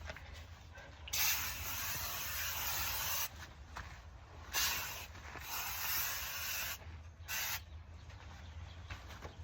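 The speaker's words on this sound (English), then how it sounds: "You need some fly spray" Fly spray is sprayed onto goats in three long hissing bursts separated by short pauses, close and fairly loud over a low background hum.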